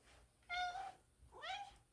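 A pet cat meows twice indoors, two clear, fairly close calls separated by a short pause.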